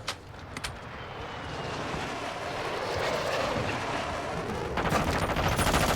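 Video game jet aircraft flying over a battlefield, a steady roaring whoosh that swells and holds across the scene, mixed with dense distant gunfire and explosions, growing slightly louder toward the end.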